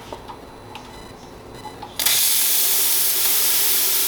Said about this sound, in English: test the steam.